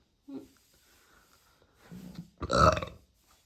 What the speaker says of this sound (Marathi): मला तर ढेकरा